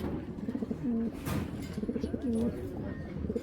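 Racer pigeons cooing in a loft, repeated soft throaty coos in short rhythmic phrases, close and fairly quiet, with a faint background rustle.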